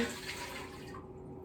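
Red wine poured from a bottle into a pot for mulled wine, a steady liquid splash close up that runs for about a second, then cuts off sharply.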